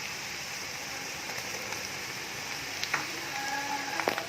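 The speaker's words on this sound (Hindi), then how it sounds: "और इसको अच्छी तरह से फ्राई कर लेंगे" Onions with garlic and ginger paste frying in a pan for a gram-flour roll curry, a low continuous sizzle with a few faint stirring clicks and scrapes near the end.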